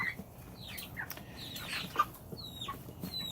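Chickens and roosters clucking and chirping softly at a distance over a steady low background rumble, with scattered short calls throughout.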